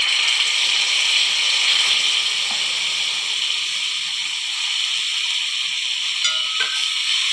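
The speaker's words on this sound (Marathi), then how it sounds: "तव्यावर थोडं तूप गरम करून घेऊया. थोडी पावभाजी घालूया." Pav bhaji sizzles in hot ghee on a griddle, a steady bright crackle that holds close and even throughout, with a faint clink of a utensil near the end.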